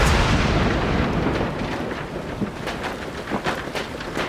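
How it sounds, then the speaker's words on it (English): A heavy storm roars as a dense, steady wash of rain, broken by deep rumbling thunder bursts that swell and fade throughout. "Oh no, it's raining."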